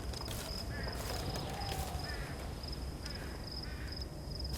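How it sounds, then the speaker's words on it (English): Crow cawing in a horror video game, a few faint harsh calls over clopping footsteps and game ambience, distant and subdued. "I hear another crow"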